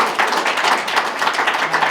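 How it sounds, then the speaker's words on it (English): An audience at a 2024 symposium claps to welcome a speaker, making brief, moderately loud clapping that lasts about two seconds. "let's have a round of applause for Matt Stamey"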